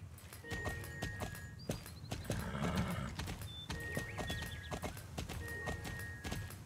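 Horse hooves clip-clop in a steady walking rhythm in the video game Star Stable Online, with a whinny partway through and faint synthetic game tones in the background.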